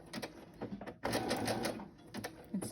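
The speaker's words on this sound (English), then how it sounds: "I do have a faster speed on my sewing machine" A home sewing machine runs at speed, stitching fabric scraps for a multi-pocket project with a steady rapid whir and mechanical clatter, fairly faint and without talk.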